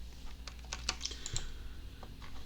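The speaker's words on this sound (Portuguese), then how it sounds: "teclo duas vezes na tecla H do teclado" Keys clatter on a computer keyboard in a quiet room: a quick, irregular run of light clicks and taps, close and fairly faint, with no talking.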